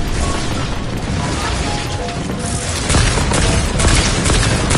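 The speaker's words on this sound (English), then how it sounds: "I've never used a Stark Rifle before" Rapid energy-rifle bursts from a Stark Rifle in a superhero-themed shooter game, dense and loud, overlapping with booms and explosions in a continuous stream of fire.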